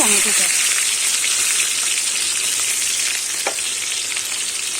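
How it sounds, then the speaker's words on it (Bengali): Chopped tomato hits hot spiced oil tempered with cloves, setting off a loud, dense, steady sizzle up close with occasional stirring scrapes. "টমেটোটা আমি একটু ভেজে নেব।"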